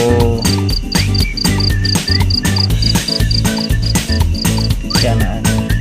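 Young crickets chirp in rapid, evenly spaced high pulses that repeat steadily through the whole stretch, layered over a dense, busy background.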